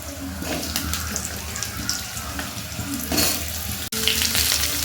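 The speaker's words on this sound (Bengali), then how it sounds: "এবার আমি দিয়ে দিচ্ছি কড়ার মধ্যে কিছুটা পরিমাণ 5 ফোড়ন আর এই একটা শুকনো লঙ্কা দিয়ে আলুগুলো আমি ভালো করে আগে ভেজে নেব।" Potatoes fry in a wok with panch phoron and a dried chilli, giving a steady close sizzle with stirring scrapes and one brief break near the end.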